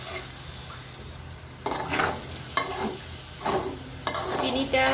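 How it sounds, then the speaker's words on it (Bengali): Semai vermicelli stirred in a pot with a pinch of salt added: several distinct scraping strokes of a spoon against the pot over a soft, continuous sizzle, fairly quiet and close. "সেমাইয়ের সাথে ভালোভাবে না মিশে যাওয়া পর্যন্ত নাড়তে হবে।"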